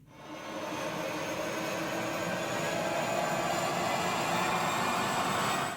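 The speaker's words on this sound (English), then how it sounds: "This is just string rising" A sustained, swelling string-like tone slowly climbs in pitch and intensity, dense and loud, with a noisy wash underneath throughout.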